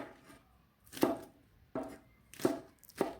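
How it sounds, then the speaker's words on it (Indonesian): A knife slicing bok choy on a cutting board, four crisp separate cuts with short pauses between them, close and clear with no talking. "Nah, ini sudah selesai dipotong-potong pokcoynya."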